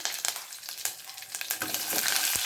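Curry leaves splutter and crackle in hot oil for tomato saaru, a dense, continuous sizzle with sharp pops throughout, close and steady, with no voices.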